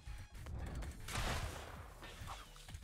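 Gunfire in a video game rings out as a cluster of muffled shots and a denser burst in the middle, fairly quiet and mixed into game noise, with no talk.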